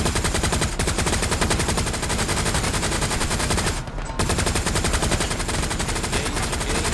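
A tank's machine gun in the Hell Let Loose video game rattles off long, loud sustained bursts at close range, with one brief pause near the middle before the firing resumes and continues steadily.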